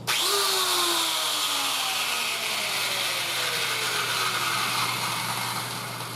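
Welder's angle grinder, just refitted with new brushes, whirring loudly on its own and slowly spinning down, its high whine gliding steadily lower for several seconds.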